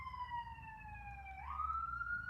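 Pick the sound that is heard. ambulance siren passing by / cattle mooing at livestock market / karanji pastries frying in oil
ambulance siren passing by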